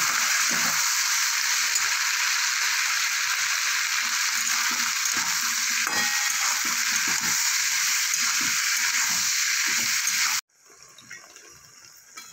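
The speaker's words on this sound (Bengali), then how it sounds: "সামান্য একটু কাশ্মীরি লঙ্কা গুঁড়ো দিয়ে ভালো করে নাড়াচাড়া করে নেব।" Spices with Kashmiri chilli powder stirred and frying in a pan for pui mitule, a steady loud sizzle with stirring scrapes throughout, cutting off abruptly near the end to quieter sounds.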